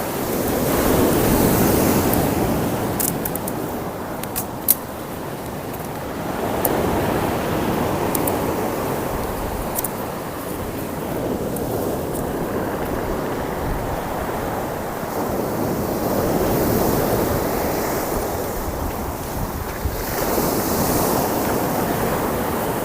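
Sea waves break and wash onto a beach on the south coast of Taliabu, swelling and receding in slow cycles of loud surf with wind noise, continuous and without voices.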